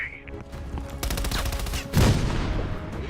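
Machine gun fire in a World War-style shooter video game crackles in rapid bursts, with a heavy boom and dense gunfire mixed into the loud battle noise.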